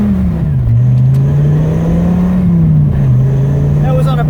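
A Dodge Viper engine revs in a steady, loud drone that rises and falls in pitch as the throttle varies, heard close and continuous throughout.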